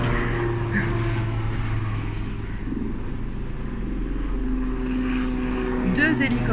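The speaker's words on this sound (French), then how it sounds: "Ah non, c'est un hélicoptère." A helicopter passing overhead is heard through open windows as a steady low engine drone that hums continuously behind a speaking voice, rising slightly near the end.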